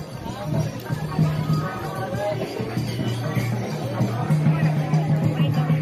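Dense crowd chatter fills a busy street near a Maruti temple, many overlapping voices close by with a steady babble and occasional footsteps and movement underneath.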